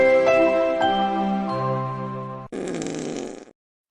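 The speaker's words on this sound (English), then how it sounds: "I'm still a 12-year-old kid that likes fart noises" A comedic fart sound effect plays as a long, loud, tonal blat of about two and a half seconds, followed by a shorter, rougher sputtering burst before cutting to silence.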